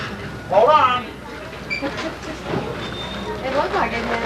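A tourist train ride at Opryland, with a steady rumble and hiss of railroad cars rolling on the rails under ongoing nearby voices of passengers talking.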